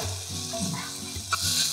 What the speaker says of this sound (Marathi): टोमॅटो छान परतत आलं की यामध्ये घालूयात लसूण पेस्ट